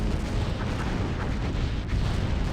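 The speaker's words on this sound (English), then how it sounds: "Those explosions completely disintegrated the ships" Starship explosions in the Star Trek: Bridge Commander video game, remastered mod, form a continuous, loud, rumbling roar of blasts and debris that fills the whole stretch.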